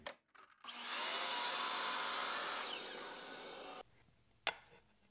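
A miter saw fitted with a zero clearance insert cuts through walnut: a sharp spin-up, a loud sustained whining bite through the wood lasting about three seconds, then the blade winds down, followed by a single clack.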